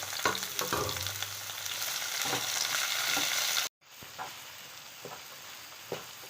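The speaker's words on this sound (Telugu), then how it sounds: "ఆనియన్స్, టమాటాలు, పచ్చిమిర్చి అన్నీ వీళ్ళు ఒకేసారి యాడ్ చేసుకొని కలుపుకోవాలి" Chopped onions, tomatoes and green chillies fry in oil for an Andhra-style puri curry, a bright steady sizzle with spoon stirring, briefly cutting out and resuming quieter with intermittent scrapes.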